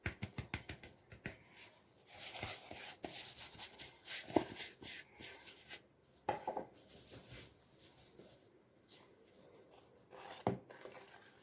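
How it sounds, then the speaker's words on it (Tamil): Brownie batter being mixed with flour and cocoa powder in a bowl, heard as soft scraping and rubbing with scattered clinks of a utensil against the dish, fairly faint and close, with no talk. "இப்போது இது கூட மைதா கொக்கோ பவுடர் ரெண்டையும் சேர்த்து நல்லா மிக்ஸ் பண்ணி எடுத்துக்கலாம்."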